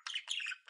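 A caique parrot lets out a brief, close, raspy squawk in two quick connected bursts, shrill and alone.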